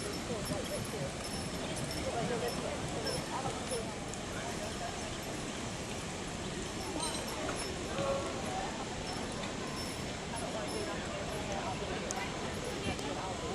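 Mules' hooves clip-clop steadily along a canal towpath through a constant wash of outdoor noise, with voices faintly in the background.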